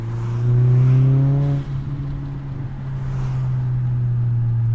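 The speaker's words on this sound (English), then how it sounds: "that low bellow of the exhaust" A Volkswagen Jetta MK4 with an aftermarket Chinese exhaust revs to about 4,000 RPM, a high, steady drone with rising harmonics, drops briefly, then settles into a loud, continuous low exhaust rumble.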